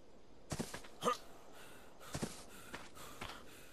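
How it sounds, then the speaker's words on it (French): Heavy, out-of-breath panting from a player in the survival game ARK: Scorched Earth, a few sharp gasping breaths spaced apart, fairly faint and close, with no talk. "Attendez, je suis essoufflé."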